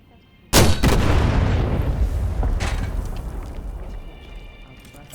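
A single loud bazooka shot from the video game Medal of Honor: Above and Beyond, a sharp close blast followed by a long rumbling decay that fades over several seconds.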